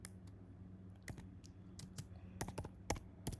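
Keystrokes on a computer keyboard in a quiet room, irregular sharp clicks in small bursts with short pauses, close and faint.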